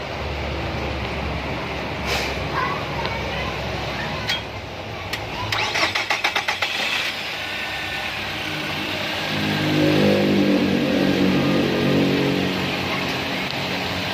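A Nissan Serena's engine cranks and catches, then settles into a steady idle after a thermostat replacement, the start a short burst of clatter followed by a continuous mid-pitched hum that swells slightly later on, with no talking.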